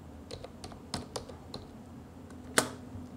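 Python code being typed on a computer keyboard, a sparse run of crisp individual keystrokes close to the mic with one sharper, louder key hit near the end, and no talking.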